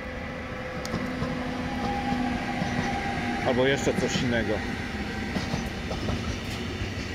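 A train hauled by a leased pool locomotive rumbles past a trackside spot near Bischofsheim, a steady mid-distance roll with rhythmic wheel clatter and a brief squealing passage, while someone talks over it.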